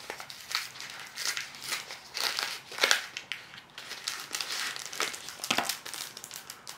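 Crinkling and tearing of a small paper envelope as it is opened up close, a series of irregular rustling bursts and crackles over several seconds.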